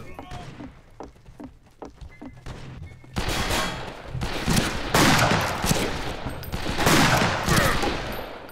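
Repeated gunfire in the multiplayer western shooter Fistful of Frags, sparse shots early then a dense, loud burst of overlapping rapid fire over several seconds, with a voice faintly under it.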